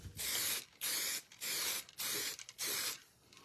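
A lacquer spray can hisses in five steady bursts, each about half a second long, separated by brief pauses, close and loud with no voices.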